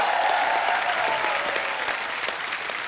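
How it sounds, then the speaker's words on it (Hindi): Studio audience at a comedy talk show breaks into brisk, dense applause, a loud continuous patter of many hands that eases off slightly toward the end, with no talking over it. "अजय सर के लिए और काजल मैम के लिए जोरदार तालियां"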